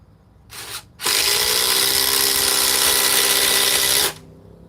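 A Ryobi power tool whirs loudly and steadily for about three seconds on a homemade test rig, after a brief quieter burst just before it starts.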